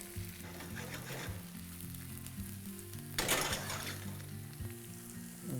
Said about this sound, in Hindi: ये भिंडी को यहां पे तो लिटरली तल ही लेना है बस।